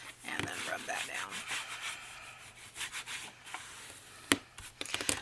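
Close, brisk rubbing and scuffing of paper being pressed down onto a journal cover, irregular strokes with a few sharp scrapes near the end.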